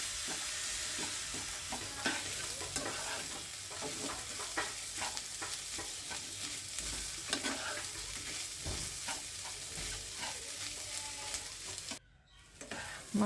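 Potatoes being stirred and mixed in a frying pan, a dense ongoing sizzle overlaid with frequent rhythmic scraping strokes, briefly cutting out near the end.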